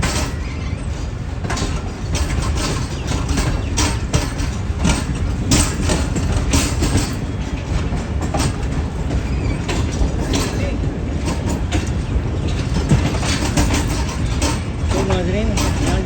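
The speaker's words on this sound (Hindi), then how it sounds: "तो ये नकली शाह हुसैन एक्सप्रेस निकल रही है सम्मा सट्टा जंक्शन से" The Shah Hussain Express pulls out of Samma Satta Junction in Pakistan with a loud, continuous rumble and rattle of railcars and rhythmic clatter over the track, and a voice talks over it throughout.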